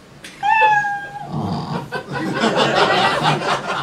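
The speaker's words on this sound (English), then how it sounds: "You know your 60 seconds is up when you hear the sound of a kitty" A single drawn-out cat meow rings out, followed by people chuckling and chatting over it.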